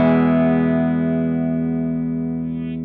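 Clean, unprocessed tone of an instrument played through an amp with no effects pedal, a single sustained chord ringing rich and steady before slowly decaying over about three seconds.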